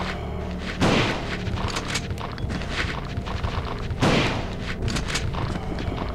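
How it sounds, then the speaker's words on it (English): Two heavy booming shotgun blasts in Resident Evil 2, spaced about three seconds apart, each a loud close thump with a short tail, over a steady rumbling game background. "Oh, they want me to use a shotgun."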